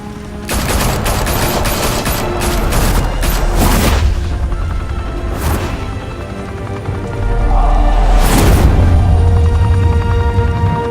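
Intense gunfire in Batman: The Telltale Series, a dense fusillade of rapid shots and booming impacts packed together, loud and close, with a second heavy burst and rumbling explosion-like swells later on.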